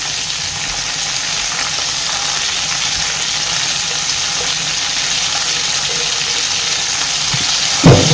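Chicken pieces fry in melted butter in a Teflon pan, giving a loud, steady hiss that holds evenly throughout, with a brief clunk near the end.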